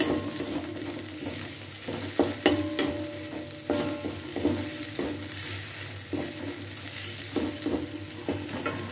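Lemongrass, a bay leaf and lime leaves sizzle in hot oil in a pan while being stirred, with a constant frying hiss broken by repeated scraping clicks of a utensil against the pan.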